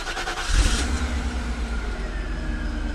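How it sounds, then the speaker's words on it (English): A 1991 Mercedes SL500 engine cranks and catches with a short burst of revs, then settles into a smooth, steady, fairly quiet idle close by. "I'll start it up for you so you can hear the engine purr."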